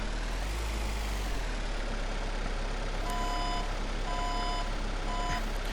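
A delivery truck in a grocery store simulator game idles with a low engine rumble, then its reversing alarm beeps steadily in evenly spaced tones over the last few seconds.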